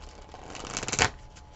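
Tarot cards are shuffled by hand close up, a brisk riffle of flapping card edges that builds to a sharp burst near the end, alone with no voices.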